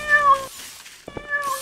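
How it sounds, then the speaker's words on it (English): Cats in the video game Garry's Mod give two loud, drawn-out meows separated by a short pause, close and clear with no talking. "He's blending cats."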